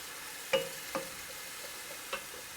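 Celery and carrot frying in a pan, a continuous soft sizzle with three scattered spoon taps against the pan.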